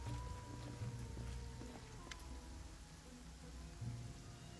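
Steady rain falling in the fantasy role-playing video game Pathfinder, a soft continuous hiss of drops with a faint low rumble beneath and no voices.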